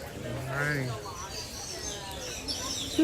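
Little blackbirds call back and forth at Disney's Animal Kingdom, scattered chirps and whistles of varying pitch heard at moderate distance, with a low coo early on and faint park ambience around them.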